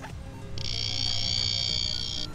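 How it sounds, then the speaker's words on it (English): A multimeter's NCV voltage detector held to a live point on an AC unit emits a steady, fairly loud high-pitched electronic buzz that starts abruptly and runs unbroken for nearly two seconds. "it starts to buzz when there's voltage present"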